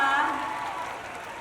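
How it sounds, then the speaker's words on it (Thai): At a series launch press event, an audience applauds in a soft, steady wash of clapping that fades slightly, with crowd murmur and a faint voice beneath. "ขอเสียงปรบมืออีกสักรอบได้ไหมคะ"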